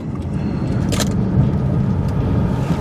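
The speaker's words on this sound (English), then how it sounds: "We're going to be doing our first 40 to 10 mile an hour stop here." A car with SP Performance brake pads and slotted rotors slowing hard from 40 to 10 mph, heard from inside as a steady, close road and engine rumble with a brief hiss of brake noise partway through.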